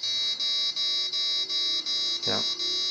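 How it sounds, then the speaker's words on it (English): A little alarm buzzer on an Arduino WiFi shield motion sensor pulses loudly and close by in a steady rhythm of eight even beeps, with a brief knock partway through. "it's going to trigger basically a little alarm sound coupled with the yellow light"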